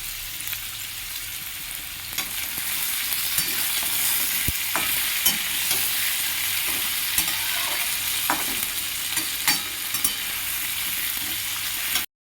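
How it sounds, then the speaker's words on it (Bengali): Vegetables including bitter gourd, lightly salted, fry in a pan with a constant close sizzle, punctuated by regular scraping and tapping of a spatula stirring them throughout. "এগুলো খানিকক্ষণ ভেজে নেব।"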